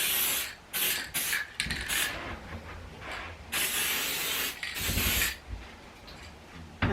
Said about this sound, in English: Spray it.